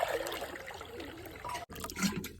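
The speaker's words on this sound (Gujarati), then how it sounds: "હાલો મિત્ર પાણી એડ કરી દઈએ ફટાફટ મસ્ત મજાનું" Water poured into a pigeon's water bowl, a faint, steady trickling splash that breaks briefly and then resumes.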